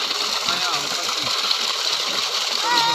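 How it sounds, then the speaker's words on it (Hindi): Water gushes steadily into a swimming pool built in a tractor trolley, a constant bright hiss with faint splashing, while someone talks over it. "गाइस देख सकते हो इधर अभी पानी भर रहा है फुल अंदर नीचे।"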